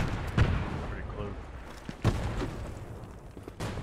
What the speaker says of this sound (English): Throwing a nade.